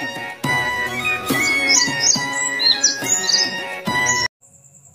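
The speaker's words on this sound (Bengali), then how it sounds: "ঘুঘু পাখি ডাকছে গাছে।" Dove calls and chirps from a tree ring out over a lively musical background, several short high notes repeating before the sound suddenly drops away.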